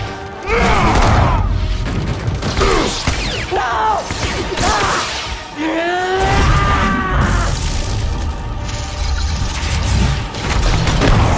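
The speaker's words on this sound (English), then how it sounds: "The explosion will mask our escape." A sustained roar of explosions and crashing debris from the video game Star Wars Jedi: Fallen Order, with booms, whooshes and rising whines layered densely throughout, loud and continuous.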